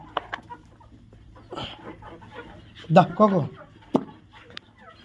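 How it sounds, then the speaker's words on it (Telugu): Free-range country hens on a poultry farm cluck and murmur close by as they peck at food, while a person talks over them in short bursts. "చూడండి కోళ్ళు ఎలా తింటున్నాయో"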